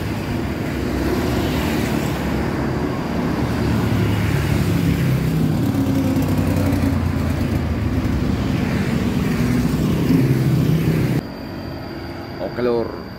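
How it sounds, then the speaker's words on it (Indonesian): Traffic on an Indonesian road with a truck passing steadily and fairly loud under continuous engine and road rumble, which cuts off abruptly near the end to a quieter background. "itu ada truk umplung dan di belakang itu ada cabe"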